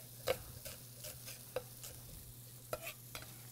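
Diced small onion goes into a hot pan and sizzles quietly, with a few sharp stirring clatters and taps over a low steady hum.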